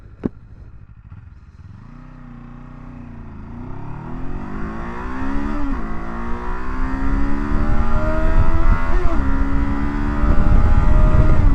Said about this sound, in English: Kawasaki KLE500 performance testing. This motorcycle has the most horsepower on paper in the test.